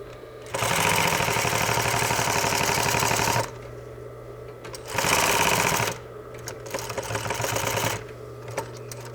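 A sewing machine stitches a flat fell seam with a top stitch in fast, loud mechanical runs, stopping twice between bursts and finishing with a shorter, lighter run.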